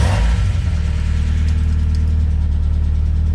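A Mazda Miata engine idles steadily nearby with a loud, low rumble, its noisy lifters adding a fast ticking clatter throughout, with a brief rev at the start and no talking.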